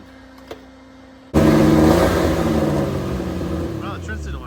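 A 1962 Plymouth Valiant or Dodge Lancer with a stuck throttle suddenly roars to life in a garage, the engine revving hard and loud, then slowly sagging over several seconds as it begins to falter.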